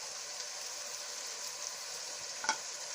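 Masala of salt, turmeric and red chili frying in a pan, a steady soft sizzle running throughout with a brief stir or clink near the end, no voices.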